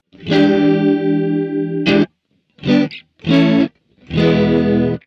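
Clean electric guitar run through a VOX AC30 amPlug 2 with chorus engaged. A long ringing chord is followed by three short, choppy strums separated by silences. Close, loud and with no voices.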